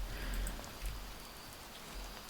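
Rain ambience in the Phasmophobia game map Camp Woodwind, a steady soft hiss of falling rain with faint scattered drips and a low rumble underneath.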